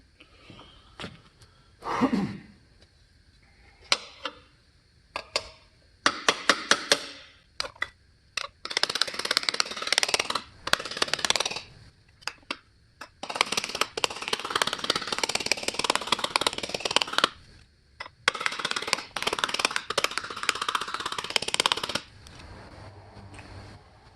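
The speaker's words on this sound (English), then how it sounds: "So while we're hammering, I'm hammering in there, and then I'm hammering it on top on the edge there" Aluminum sheet hammered into a curved armor greave, bursts of rapid metallic blows in clusters separated by short pauses, close and fairly loud, with quiet handling noises between.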